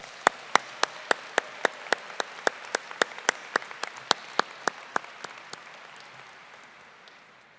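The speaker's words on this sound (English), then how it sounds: "Let's give all of our award winners one more round of applause," At a university honors commencement ceremony, an audience claps for award winners, with a few sharp, evenly spaced close claps standing out over softer crowd applause that slowly fades.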